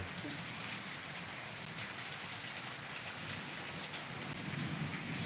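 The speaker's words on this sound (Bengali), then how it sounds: "বাইরে একা একা যাবি না বিদ্যুৎ চমকাচ্ছে মেঘ ডাকছে" Steady rain pours outside during a thunderstorm, a dense even hiss of drops on surfaces with faint low rumbling underneath, heard fairly quietly and without voices.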